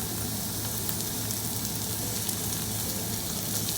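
A ribeye steak sears and is basted in a hot pan, giving a loud, continuous sizzle and spatter that holds steady throughout and plays on its own without any talk.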